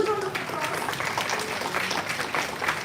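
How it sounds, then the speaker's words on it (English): A hall audience at an arbitration moot court inaugural ceremony claps to welcome a dignitary, a dense, moderately loud patter of hands lasting a few seconds, with faint voices mixed in. "A huge round of applause."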